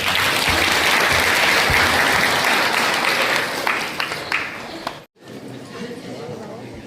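Wedding guests at a church ceremony break into sustained, loud applause that fills most of the moment, then fades into scattered claps before a brief pause and quieter crowd sounds.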